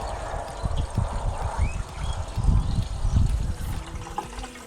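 Hose water runs through the radiator of a 1969 Chevrolet C10 during a flush, a steady close gurgling and splashing stream that swells and churns throughout.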